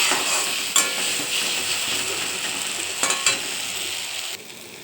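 Spice paste frying in oil in a kadai, a steady bright sizzle with occasional scraping stirs and metallic clinks of a spoon against the pan, close and continuous without speech.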